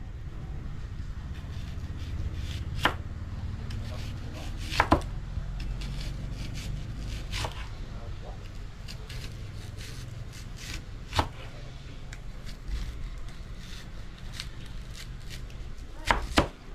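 Chopping onion and chicken breast with a knife on a board gives a steady run of close, fast cutting taps over a low background rumble, with a few sharper knocks scattered through.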